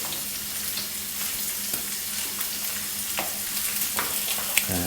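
Peppers sizzle steadily in a pan for a steak-night dinner, a dense continuous crackle with occasional sharper spatters and stirring clicks, close and fairly loud with no talking.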